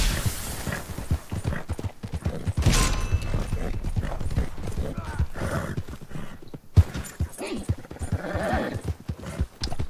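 Hooves pound in a fast, continuous gallop during a Red Dead Online horse race, with an occasional neigh and a voice talking over the running.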